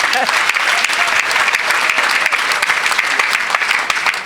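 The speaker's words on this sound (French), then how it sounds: "Non, acclamons d'abord pour ça." A church congregation breaks into loud, sustained applause, dense clapping filling the room from start to finish.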